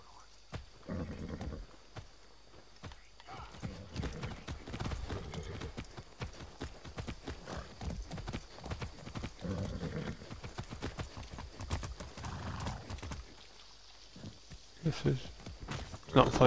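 Horse hooves clip-clop at a steady walking pace in a video game woodland, running through most of the stretch under frequent speech and game sounds.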